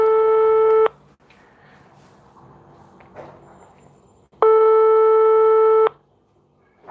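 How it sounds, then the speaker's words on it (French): Telephone ringing tone heard on an outgoing call: two long, loud, steady electronic tones of about a second each, separated by a quiet gap with faint room noise. "je viens de t'appeler au téléphone, t'as pas répondu"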